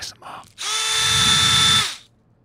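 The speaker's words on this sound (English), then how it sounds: "but this is drill ASMR" A power drill spins up close and loud after a brief rattle of handling, holds a steady whine for just over a second, then winds down and stops.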